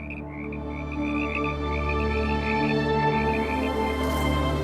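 Frogs croak in a continuous chorus, a steady, buzzing trill that holds without pause.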